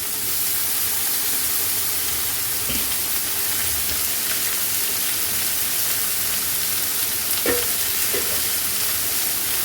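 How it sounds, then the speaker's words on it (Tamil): Steady, dense sizzling of ginger and green chili sautéing in a hot pan, with a few soft stirring clinks and scrapes, continuous and close. "இது நல்லா எல்லாமே சேர்த்து நல்லா வதங்கணும்"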